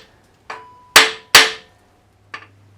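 Four sharp metallic hammer blows on seized bolts in Porsche 928 cylinder heads, close and distinct, spaced irregularly with short ringing decays and quiet gaps between strikes.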